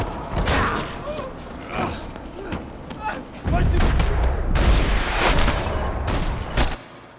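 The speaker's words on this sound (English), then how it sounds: "Another parking lot rattling with gunfire." Bursts of gunfire crack and thud amid action sounds in Max Payne 3, in a parking lot, with voices shouting between the shots.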